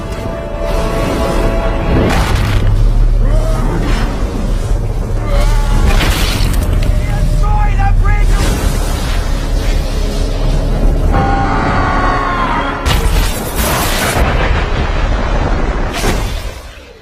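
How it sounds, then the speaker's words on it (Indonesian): A loud, rumbling blast as the Bifrost explodes, with heavy low booms and bursts of crackling debris, swelling and surging across a long stretch, with sharp flashes of noise near the end. "Akibat ledakan Bifrost, Thor dan Loki hampir aja jatuh ke dalam kosmos."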